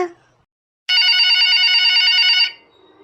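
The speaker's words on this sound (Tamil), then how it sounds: "நான் ஃபோன் எடுக்கல எப்படி தெரிஞ்சவங்க தான் லேண்ட்லைனுக்கு கால் பண்ணியிருப்பாங்க" A landline telephone rings indoors, one loud continuous electronic trill of about a second and a half that starts after a short silence and cuts off abruptly.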